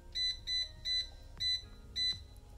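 An air fryer beeps as its timer is set: five short, high electronic tones, four in an even rhythm and a fifth after a brief gap, close and clear with no talk.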